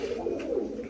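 A pigeon coos softly and steadily nearby, a low, throaty, rolling call that continues for about a second with no other sounds.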